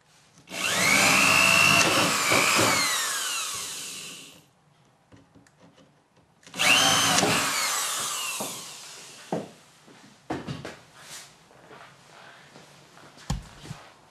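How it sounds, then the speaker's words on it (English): A Milwaukee oscillating multi-tool sands the perimeter of a wood piece in two loud, sustained bursts of abrasive buzzing, each about four seconds long, followed by quieter scattered handling knocks and taps. "I took my little Milwaukee multi-tool here and sanded down the perimeter"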